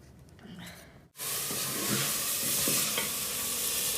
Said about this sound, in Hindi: तड़का लग रहा है शलजम को